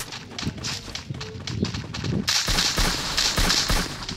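Gunfire in the video game Free Fire: quick bursts of shots and footstep-like thuds at moderate level, growing sharper and denser after a brief switch partway through.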